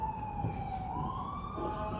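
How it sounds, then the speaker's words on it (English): An ambulance siren wails as it passes by outside, a steady rising and falling tone heard from a distance over a low background rumble. "oh, we got an ambulance going by"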